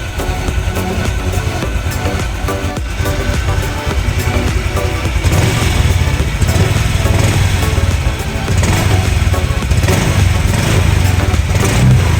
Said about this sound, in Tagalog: paanda natin yung ating motor mga boss at least uh, ah, 5 minutes